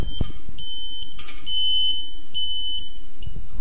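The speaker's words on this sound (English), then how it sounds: "Continue in the same direction until you hear again the tone getting lower and lower." Satellite antenna alignment meter for a Ka-Sat internet dish emitting high electronic beeps, steady tones broken by short gaps in a repeating on-off pattern, loud and close with a low hum underneath.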